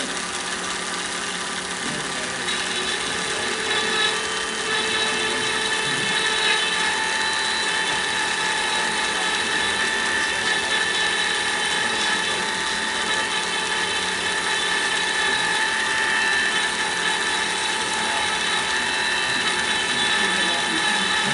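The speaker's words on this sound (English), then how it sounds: "Okay, we're just going to cut our threads here." A thread-cutting machine running at 2,500 RPM cuts threads, giving a steady, continuous mechanical whir with high ringing tones throughout, close and fairly loud, with no talk.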